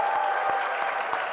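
A Korean church congregation at a spring revival meeting applauds the guest pastor, with brief, steady clapping and a held tone underneath.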